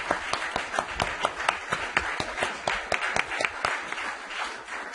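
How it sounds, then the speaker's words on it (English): Applause from an audience at a city council meeting, a steady patter of many hands clapping at moderate loudness for about five seconds with no talking over it. "give yourself a big round of applause for your position."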